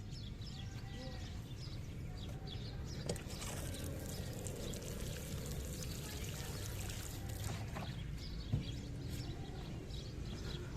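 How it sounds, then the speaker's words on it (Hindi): Water poured onto freshly sown radish seeds in soil, a faint, steady trickle and splash running throughout, with birds chirping softly in the outdoor background. "अब टाइम है इनको पानी देने का।"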